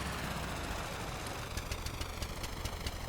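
Boat engines in Stormworks driving three-bladed pitchable propellers at throttle, a dense rumbling churn with a rhythmic knocking pulse emerging in the second half, steady and loud.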